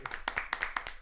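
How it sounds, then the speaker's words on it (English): Scattered round of applause from a small podcast group, with a few hands clapping quickly and unevenly up close for about a second. "can we get a round of applause for that one?"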